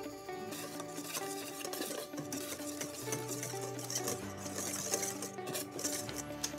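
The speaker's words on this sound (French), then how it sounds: "On va maintenant incorporer la crème montée en 2 fois au premier mélange." Whipped cream is folded by hand into a white coffee mousse mixture in a bowl. Soft, repetitive scraping and stirring strokes sit close and quiet, with faint clinks against the bowl and no talking.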